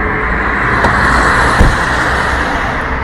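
A car passes close by on a road, a loud broad engine and tyre rush that swells to a peak midway and then fades, with no talk over it.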